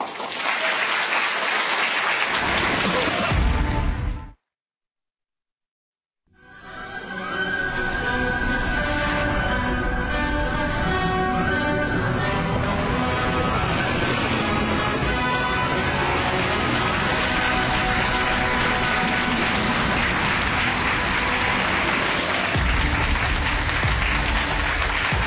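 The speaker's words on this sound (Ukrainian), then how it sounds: "Спасибо за аплодисменты." Sustained studio audience applause on a TV talk show, a thick wash of clapping that breaks off for about two seconds, then resumes and carries on steadily for roughly twenty more seconds.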